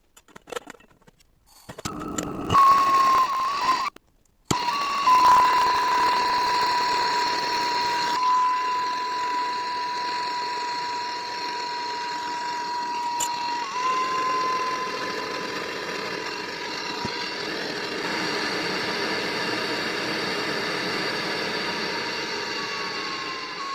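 A portable MAPP gas welding torch burns steadily to melt small bits of metal, giving a loud continuous roaring hiss with a thin whistling tone. It starts after a few brief clicks and a short gap, then holds close and alone.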